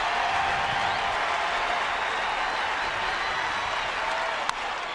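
Stadium crowd at a Major League Baseball game applauding and cheering a defensive catch, a steady, dense roar of clapping and voices that holds throughout at a fairly loud, even level.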